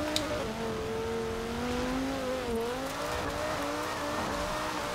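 An Audi RS6 with a twin-turbo V10 drift build in Forza Horizon 4 screams near its rev limiter, the engine note wavering up and down steadily and loudly with a faint tire squeal beneath.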